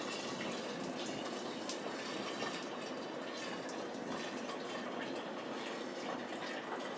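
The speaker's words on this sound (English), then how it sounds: "So we'll go ahead and pour that down in there." Water pours steadily into a Mr Beer homebrew keg, a continuous splashing gush with small bubbling and sloshing sounds, close and moderately loud.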